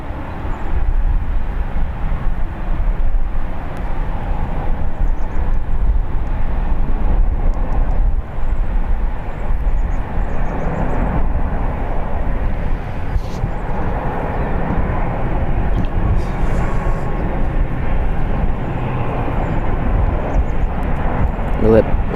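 Boeing 777 airliner landing at San Francisco International Airport, a loud, steady low engine roar heard from a distance with no sharp peaks, carrying on throughout.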